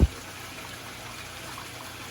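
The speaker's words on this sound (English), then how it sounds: "Fill this up with water." Water being poured into a pigeon waterer tray, a soft steady trickle and splash running for about two seconds after a brief bump at the start.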